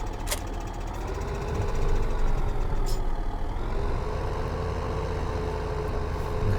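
A tractor engine idles in Farming Simulator 2015, a steady low rumble with a rough knocking texture that runs throughout, rising slightly in loudness partway and holding even, with no voices over it.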